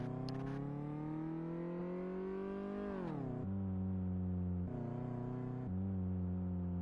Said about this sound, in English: This car cannot accelerate very well.